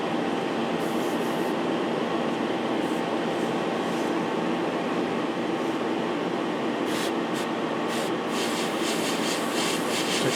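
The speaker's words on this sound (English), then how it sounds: "I'm just going to stick the extractor on" A fume extractor fan runs steadily at a workbench where a 1/35 scale Takom Panzer I model is being weathered, giving a loud, even broadband whoosh that holds constant throughout with faint high ticks over the top.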